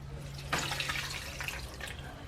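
A cup of water pours into a cooking pot in a home kitchen, a short splashing gush that runs steadily for about two seconds at close range.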